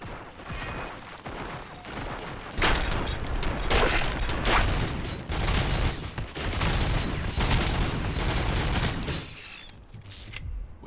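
Sustained gunfire in the video game RoboCop: Rogue City, dense rapid bursts and impacts rolling on loudly for several seconds with short gaps between volleys.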